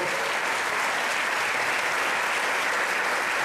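An audience at a Latin music CD presentation applauds a veteran conga player, a dense, steady wash of clapping filling the room from start to finish.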